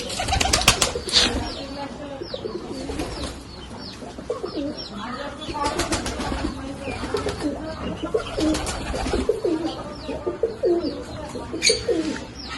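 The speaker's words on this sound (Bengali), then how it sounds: "যেমন হচ্ছে পায়রার বেবিগুলো।" Pigeons coo repeatedly on a rooftop, soft throaty calls with a few sharper chirps and wing flutters, steady through the whole stretch, fairly close.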